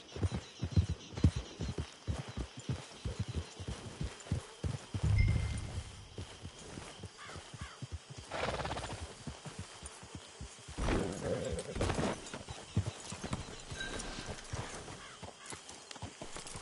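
Horse hooves clip-clop at a steady walking pace in the Red Dead video game, moderately close, with a brief whinny, ambient game sounds and occasional voices around them.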